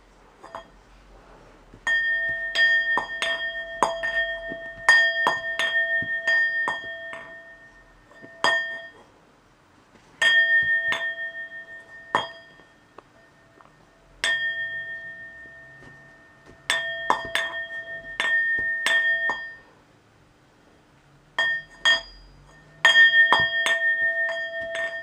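Tibetan singing bowls struck with a stick in irregular bursts, each strike giving bright, ringing metallic tones that briefly sustain, with pauses of silence between clusters of hits.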